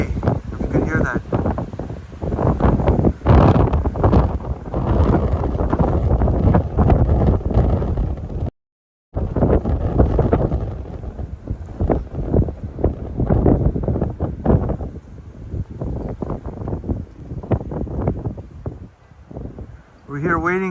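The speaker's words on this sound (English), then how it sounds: "Pretty windy, if you can hear that." Steady wind buffets the microphone with a low, roaring rumble throughout, briefly cutting out once, with faint background noise underneath.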